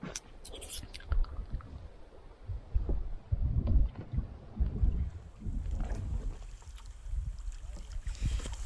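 Sailboat gliding across Lake Temagami, with wind buffeting the microphone and gentle water swishing and lapping against the hull throughout, close and fairly steady.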